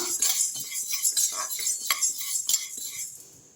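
Dal being stirred as it dry roasts in a pan, a spoon scraping and clinking against the metal in a quick, uneven rhythm of close, moderate strokes with no talking.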